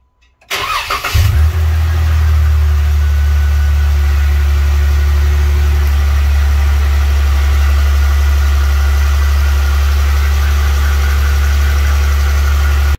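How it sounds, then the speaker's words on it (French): A Jeep Wrangler JK with the 3.6 engine cranks and fires up after a brief silence, then settles into a loud, steady, close idle with a deep low rumble for the rest of the clip. "on va démarrer le moteur, l'huile va circuler, le niveau va diminuer un petit peu"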